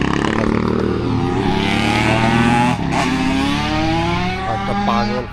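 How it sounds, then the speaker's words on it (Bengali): A motorcycle passes along a quiet rural road in a Russian village, its engine note loud and close, rising and then easing away over several seconds. "একটা পাগল মোটরসাইকেল নিয়ে যাচ্ছে আর কি।"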